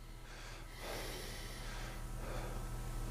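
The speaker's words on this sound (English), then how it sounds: "Let's take a deep breath." Someone draws a long, steady breath in over about two seconds, a soft airy rush heard close up with a low background hum and no talking.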